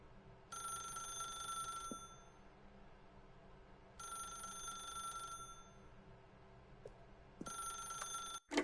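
A telephone rings inside the video game The Stanley Parable, three long bursts of a bright electronic bell separated by pauses, clear and steady over a faint low background hum.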